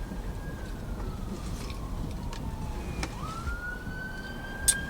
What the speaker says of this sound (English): They got sirens and things.